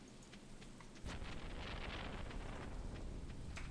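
Rain and thunder in the video game Stardew Valley: a soft patter of rain swells suddenly into heavier downpour with a low rumble of thunder after about a second, steady to the end.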